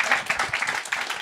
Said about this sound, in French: on l'applaudit elle